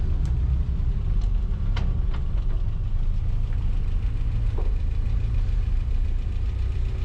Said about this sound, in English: A bit of gear action there folks, the old mechanical levers.